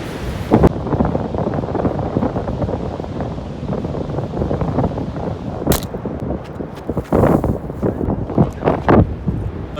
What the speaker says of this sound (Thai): ใครจะไปคิดว่าลมมันจะเสียงดัง